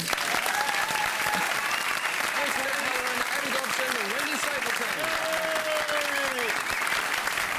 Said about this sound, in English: Ladies and gentlemen, can we have a round of applause?